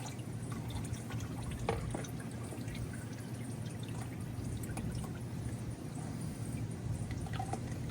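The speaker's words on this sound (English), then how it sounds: "I don't mind letting more fluid out." Fluid drains from a Jeep into a pan as a continuous soft pour with small drips and trickles, steady and close, without speech.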